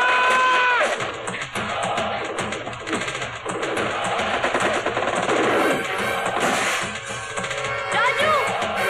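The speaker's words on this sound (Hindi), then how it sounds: "अरे शोर नहीं, मशीन गन है, मशीन गन।" Rapid machine gun fire bursts in a TV comedy scene, loud and dense, rattling continuously over crowd commotion and crashes, with voices shouting amid the gunfire.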